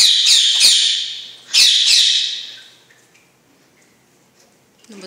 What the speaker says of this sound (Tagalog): Ang ingay naman tong ibon ka.